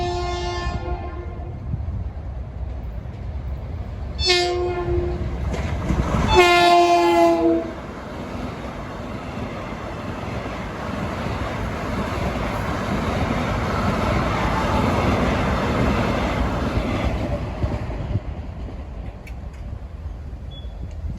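An MU commuter train on the Ronkonkoma–Hicksville run sounds several loud horn blasts as it approaches the South Oyster Bay Road crossing, then rumbles through nearby with a long, steady roar that slowly fades.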